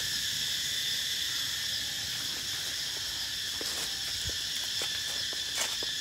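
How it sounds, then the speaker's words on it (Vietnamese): Cicadas in a mangosteen orchard keep up a loud, steady shrill drone, joined by a few faint rustles and light taps toward the end. "Ve kêu inh ỏi từ sáng giờ luôn."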